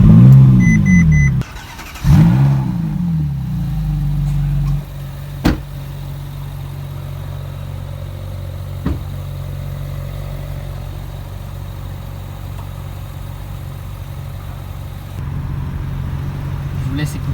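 A Ferrari 458 Italia engine starts close by with loud, rising revs over the first few seconds, then settles into a steady, rumbling idle with a brief blip midway.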